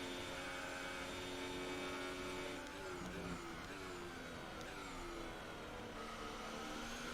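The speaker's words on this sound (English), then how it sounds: "hear the fucking the revs just spike" A Formula 1 car engine in a racing video game drones steadily, then the revs jump and shift pitch as it accelerates, sustained and moderately loud.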